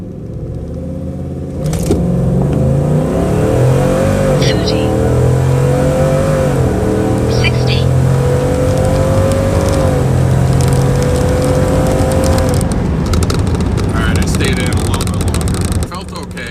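A tuned Ford F-150 pickup's 5.0 Coyote V8 revs up strongly from a standstill in a 0 to 60 run, pitch climbing through several gear shifts, loud and close with cabin road noise throughout.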